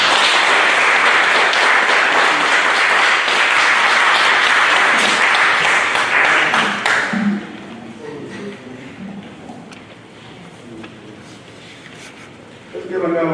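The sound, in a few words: audience applause for award recipient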